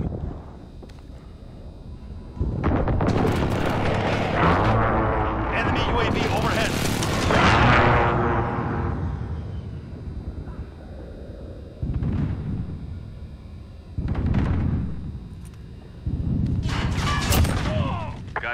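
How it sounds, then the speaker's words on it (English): Enemy precision airstrike explosions in a military video game: several heavy, rumbling blasts arrive one after another with long decaying tails, separated by brief lulls, while a voice talks over them. "Enemy precision airstrike,"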